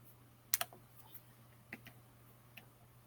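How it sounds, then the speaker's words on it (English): A few quiet taps on a computer keyboard, sparse and irregular, with two sharp clicks close together near the start and softer keystrokes after, over a faint steady hum. "Type in SQL real quick for me."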